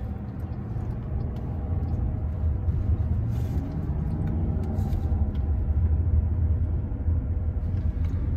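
Inside a Waymo self-driving car turning right through an intersection, a steady low road and motor rumble runs throughout with no talking.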